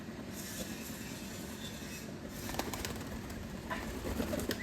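Pigeons gathered at water on a hot summer day, soft cooing and wing movement buried in a steady, noisy outdoor hiss that swells slightly toward the end.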